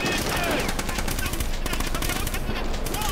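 Rapid automatic gunfire from the Wii shooter Heavy Fire Special Operations rattles in dense, loud bursts during an on-foot shooting section, nearly continuous with brief breaks, and game audio fills the clip without a spoken voice.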